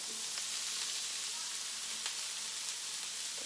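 Steady, faint sizzle of food cooking on a covered hibachi-style grill griddle before shrimp are added, a soft continuous hiss with a few small crackles and no talking.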